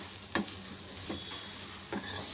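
Grated coconut dry-roasting and stirred in a pan for a bitter gourd and black-eyed pea side dish, with a steady soft sizzle and three distinct scraping strokes, no voices.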